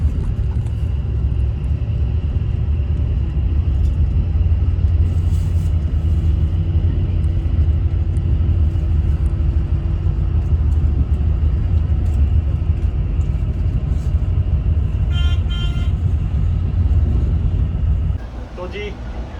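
Steady low engine rumble and road noise from a Volvo B11R business-class bus cruising on the highway out of Ahmedabad toward Delhi, continuous and loud throughout, with a slight drop at the very end.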